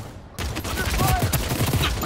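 Rapid video game gunfire erupts in a dense, loud burst after a brief quiet start, with a player's voice partly audible under the shots.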